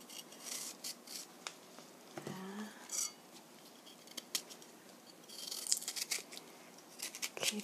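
A knife peels a pear in thin strips from top to bottom, giving soft intermittent scraping and rasping strokes, close and fairly quiet, with no talking.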